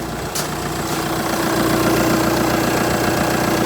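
Audi A4 B8 2.0 TDI diesel engine idling steadily just after a timing belt change, a close, even mechanical clatter with a low rhythmic knock, running alone without talk.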